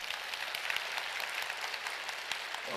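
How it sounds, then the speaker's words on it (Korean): A church congregation at a joint revival service applauds together, a dense, sustained burst of clapping filling the hall with no speech over it. "그런 희망을 가지고 주님께 그렇게 도와달라고 박수 한번 올려주시기 바랍니다."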